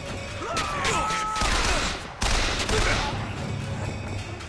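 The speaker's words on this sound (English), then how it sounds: "Why are they shooting me now?" Gunfire in the video game Bioshock Infinite, a loud dense burst of shots and crashes that fills the whole stretch, breaking off briefly midway before resuming just as heavily.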